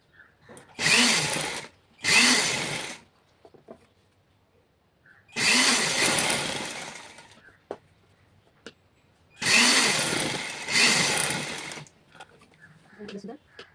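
A sewing machine stitches a prince cut blouse in three loud, steady bursts of about two seconds each, separated by short quiet pauses with faint voices in between.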